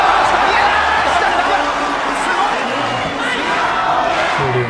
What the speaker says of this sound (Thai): ดูเสียงเชียร์มานะครับ